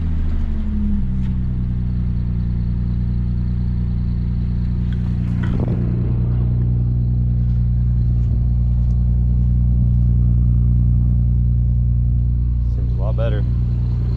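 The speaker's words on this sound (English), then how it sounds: "Let's go ahead and start the car up first before I change the fan control module." An Audi S4 engine starts and settles into a steady, loud idle with a deep low rumble throughout, while the car sits parked before its fan control module is changed; brief clicks and rattles surface near the middle and end.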